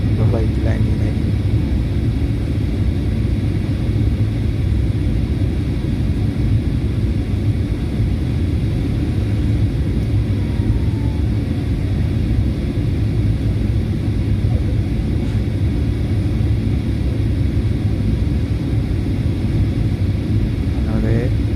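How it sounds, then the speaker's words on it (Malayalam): Airplane landing, heard from inside the passenger cabin: a loud, steady engine and air roar that holds unbroken throughout, with a faint murmur of voices underneath. "ഫ്ലൈറ്റ് ലാൻഡ് ചെയ്യുന്നതായിരിക്കും."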